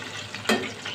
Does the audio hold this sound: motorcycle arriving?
no